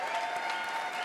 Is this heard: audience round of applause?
yes